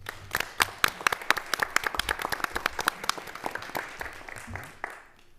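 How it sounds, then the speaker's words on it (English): School board meeting audience applauding with distinct, sharp individual claps from a small group, fairly close, rhythmic at first and tapering off toward the end. "Let's give her another round of applause."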